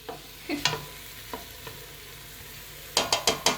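Onion and garlic frying in a pan for spaghetti bolognese, a steady soft sizzle with several sharp scraping stirs and a quick run of four clacks near the end, no voices.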